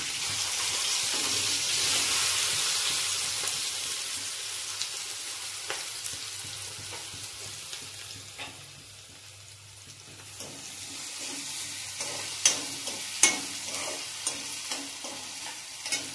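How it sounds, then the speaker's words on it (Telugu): Onions and green chillies sizzle steadily in a hot pan for prawn, drumstick and cashew curry, with scraping stirs and occasional sharp clinks of a spoon against metal, close and continuous with no talking. "ఇప్పుడు ఉల్లిపాయలు, పచ్చిమిరకాయలు వేసేసుకుందామండి."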